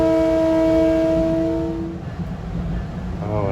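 A passenger train rumbles along the rails near Peekskill with a steady low roar. A horn sounds sustained tones for about two seconds, then fades under the running noise, and a brief tone returns near the end.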